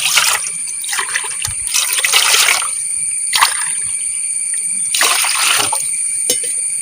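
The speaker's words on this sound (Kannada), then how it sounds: "ಮೂರು ಗ್ಲಾಸ್ ಅಷ್ಟು ನೀರು ಕಲ್ತಿದ್ದೇನೆ" Water from a glass splashes into a pot in three separate pours, each a short close burst of gushing and trickling with quiet gaps between.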